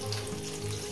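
Potatoes frying in oil with salt and turmeric, a brief close, steady sizzle with no talking.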